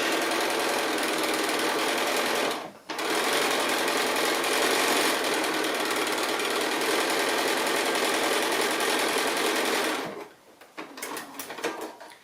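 A sewing machine stitching quilt pieces along a quarter-inch seam, running in a loud steady whir for several seconds, pausing briefly, then ending with short uneven bursts.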